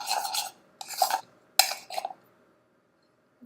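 Easy Bake Oven chocolate chip cookie dough being mixed in a small bowl, giving three short bursts of scraping, stirring rasps, close and moderately loud, separated by brief pauses and followed by near silence.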